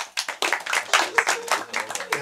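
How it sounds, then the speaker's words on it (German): Audience at a live German stand-up comedy show claps in short, uneven bursts, fairly close and moderately loud, with a few scattered voices mixed in. "Mal Applaus."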